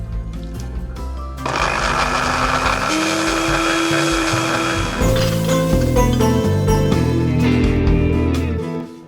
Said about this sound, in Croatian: stavljamo ih u blender i blendiramo dok ne dobijemo jedan gusti umak od maline